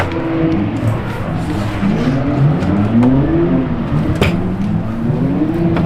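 A BMW E36 with a 3.0 engine, set up for drifting, revs hard with the engine note rising and falling in repeated swells, loud and close, with faint tire noise and no clear speech.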